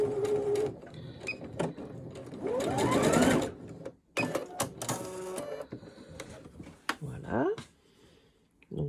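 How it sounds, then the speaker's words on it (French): A sewing machine runs a zigzag stitch along the seam of men's underwear in bursts of rapid mechanical whirring, stopping and restarting several times close up, with a voice speaking during the pauses. "Maintenant, je fais mon point zigzag."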